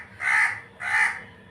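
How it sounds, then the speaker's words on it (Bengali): Crow cawing outdoors in rainy weather, two loud, harsh caws about half a second apart, close by and alone. "কাকটা ডাকছে কেরম করে"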